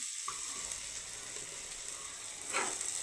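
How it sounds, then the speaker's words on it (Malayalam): Roasted coconut with coriander and chilli powders sizzling in a pan for a dry prawn curry, a soft continuous hiss at low volume with a brief wetter burst near the end. "ഇനി അതിലേക്ക് നമുക്ക് തേങ്ങ വറുത്തതും മല്ലിപ്പൊടിയും മുളക് പൊടിയും വറുത്തതും"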